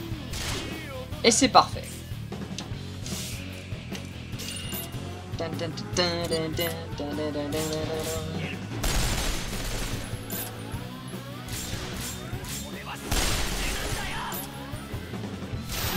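Rapid bursts of gunfire from Resonance of Fate crack out in clusters, mixed with clinks and impacts, while someone talks over much of the action.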